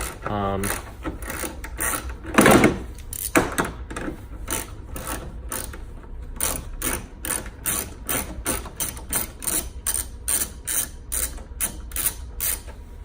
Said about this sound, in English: we're gonna take these two out. And this is a 10 millimeter socket again